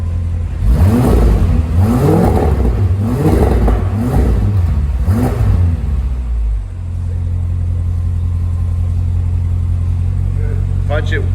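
Audi RS7 with a loud Fi aftermarket exhaust, valves open, revving hard several times in quick bursts, near and roaring, then settling into a steady deep rumbling idle, with people talking over it.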